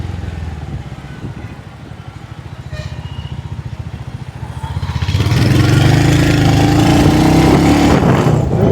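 A Royal Enfield Hunter 350 motorcycle engine runs close by, first a low, even thumping idle, then revved up to a louder, rising roar that holds steady to the end.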